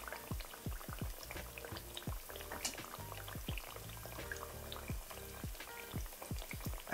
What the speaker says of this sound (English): Fry up the second batch.